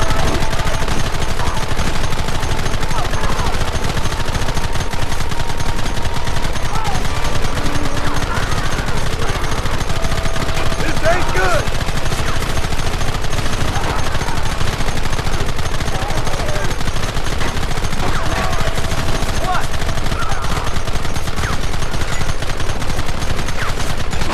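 Dense, loud gunfire from the video game Red Dead Redemption, a continuous barrage of overlapping rapid shots and bangs with a few faint shouts mixed in, lasting the whole stretch.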